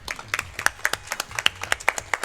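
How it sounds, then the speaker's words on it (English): Applause from a small audience at a speedrunning marathon event: a handful of distinct, fairly close claps in an uneven rhythm, with no other sounds over them. "So yeah, that's an applause,"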